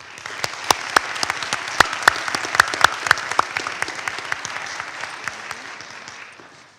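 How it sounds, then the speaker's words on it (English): A candidate forum audience breaks into a full round of applause: dense, steady clapping with a few sharp, loud claps standing out, then slowly tapering toward the end. No one speaks over it. "Please give them a round of applause."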